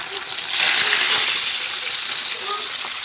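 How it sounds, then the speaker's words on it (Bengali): Water is poured into a cooking pot over onion, garlic paste, turmeric and salt, a short splashing gush that swells and then settles into a softer trickle. "তো এখানে এখন আমি জল দিয়ে দেবো"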